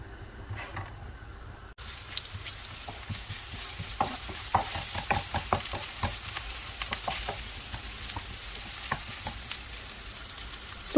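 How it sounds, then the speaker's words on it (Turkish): Chopped onion stirred as it fries in oil in a pan, with steady close sizzling and scraping stir strokes through most of the clip after a quiet start. "Üzerine doğradığımız soğanı ekleyip 1-2 dakika kadar kavuralım."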